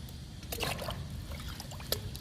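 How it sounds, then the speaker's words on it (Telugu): Water trickles and splashes softly onto freshly fertilized garden plants such as a young bottle gourd vine, a faint continuous pour with a few brief louder spatters, no talking. "ఇప్పుడు మనం ఎరువులు ఇచ్చిన మొక్కలన్నిటికీ వాటర్ ఇచ్చేద్దాము"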